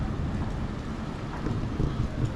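Steady rain with a low rumbling undertone, like a thunderstorm heard from nearby in Cyprus, continuous with slight swells in loudness toward the end.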